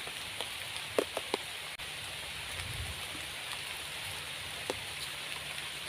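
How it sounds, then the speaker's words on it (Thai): Steady hiss of rain falling, with a few scattered louder drips and taps standing out against the constant wash. "วันนี้ฝนตก"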